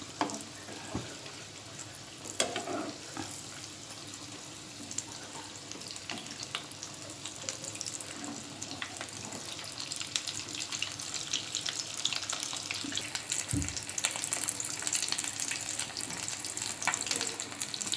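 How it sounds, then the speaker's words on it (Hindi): Egg cutlets shallow-frying in hot oil give a steady, even sizzle with a bright hiss that runs throughout, joined by a few soft thumps and scrapes from the pan. "अब कटलेट को अच्छे गोल्डन होने तक हम तलेंगे।"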